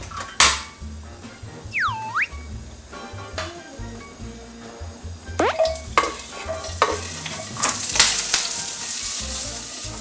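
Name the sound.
potatoes frying in a pan on a gas stove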